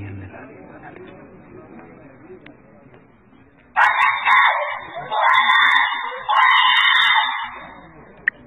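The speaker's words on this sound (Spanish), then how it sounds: "nuestro seguidor Guitragos registra unos aterradores gritos desde el interior." Screams ring out inside an abandoned building in Colombia: after a quiet stretch, loud, harsh, sustained shrieks break out and repeat in long bursts, then stop abruptly.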